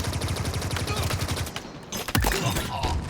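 Rapid automatic gunfire fills a Halo Infinite multiplayer match, with a fast rattling stream of shots, a heavier blast partway through and continued firing after it, dense and loud with game effects layered over it.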